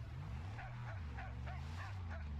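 Dog barking inside the Mad Max video game, a run of short repeated yips at a steady pace over a low droning engine rumble, fairly faint in the mix.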